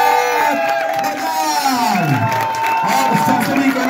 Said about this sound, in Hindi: आप सभी लोगों के जोरदार जोश भरी तालियों के साथ में please help me to welcome.